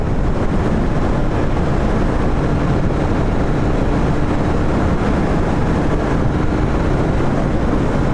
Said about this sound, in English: there is definitely a very strong headwind component too, which is preventing me from going faster than 100 kilometers per hour